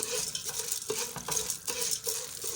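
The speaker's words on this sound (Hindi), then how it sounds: "अब उसमें ये मिक्स करना है इसको" Popcorn kernels being stirred through hot oil in a home pan, giving a continuous close sizzle and frying crackle with repeated scraping sweeps of the stirring utensil and no speech.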